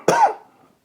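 One harsh, throaty cough after smoking weed, close and loud, with a raspy tail that fades quickly into silence.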